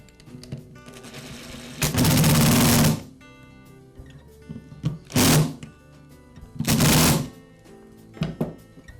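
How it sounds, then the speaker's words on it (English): Screws driven in to join the upper and lower halves of a motor housing, three separate bursts of a buzzing power driver, each about a second long, close and loud, with small clicks and handling noises in between. "I'll secure the upper and lower halves of the motor housing with the screws."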